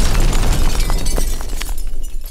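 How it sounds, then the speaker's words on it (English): A cartoon dynamite blast rips out loud and close, a crackling, shattering roar that rumbles on and slowly thins out. "He packed his bags with dynamite to blow up the King Burger."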